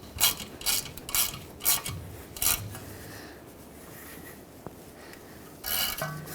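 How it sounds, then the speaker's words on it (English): Ratchet tightening the ABS sensor bolt on a 2011-2016 Ford F-350 rear brake assembly: several quick bursts of close clicking in the first half, a pause with faint handling noise, then one more short run of clicks. "slide that bolt in, and tighten it down"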